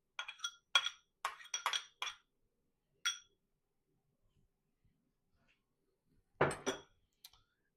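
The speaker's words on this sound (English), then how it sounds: "let's use the iron spoon. Hey, it does good with scooping" An iron spoon scoops and clinks against a bowl of egg yolks: a quick cluster of bright metallic taps, a lone tap, then a louder scrape-clink after a quiet pause, close and crisp in an otherwise silent kitchen.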